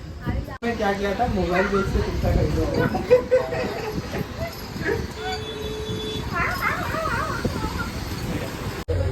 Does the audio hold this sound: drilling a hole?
no